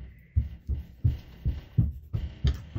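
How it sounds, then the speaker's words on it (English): Heavy, muffled, rhythmic thumps come from a child stomping and running around upstairs, about two per second, dull and low through the ceiling over faint room noise. "that's the sound of their little brother stomping his feet and running around upstairs"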